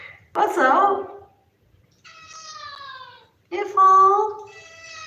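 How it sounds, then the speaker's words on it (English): A domestic cat named Eva meows repeatedly in long, drawn-out tonal calls, loud and close, with a brief gap between each cry. "why does this cat call me mom?"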